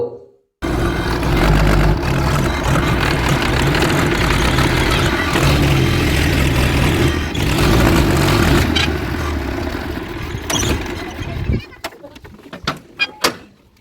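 A truck with a load of bricks for a house under construction arrives with a loud, rumbling engine. The engine runs steadily for about eleven seconds and then cuts off, followed by a few sharp knocks and thumps as voices talk over it.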